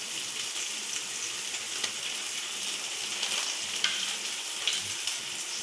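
Ground spices, chilli powder, turmeric and cumin, sizzle steadily in hot oil in a pan for a raw banana curry, a soft continuous frying hiss with faint scrapes of stirring, fairly quiet and without voices.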